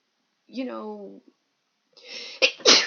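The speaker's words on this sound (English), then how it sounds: "I had to sneeze" A man lets out a sneeze, first a drawn-in voiced breath, then after a short pause a sharp burst of two quick explosive sneezes, close and loud.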